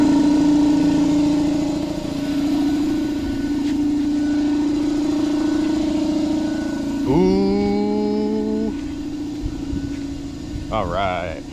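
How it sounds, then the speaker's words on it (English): An air compressor running in a garage, filling a tire machine: a loud, steady mechanical hum with a strong droning tone throughout, joined by tonal voice-like sounds partway through and near the end. "Gotta turn the compressor on so I can fill up the tire machine so I can do the tires"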